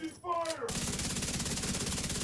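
Rapid automatic gunfire in The Division 2 rattles continuously after a short lead-in, a fast, even stream of shots.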